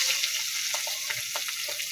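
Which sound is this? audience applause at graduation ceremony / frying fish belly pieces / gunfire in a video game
frying fish belly pieces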